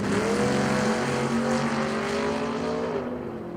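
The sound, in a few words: drag race cars, Camaro and El Camino, launching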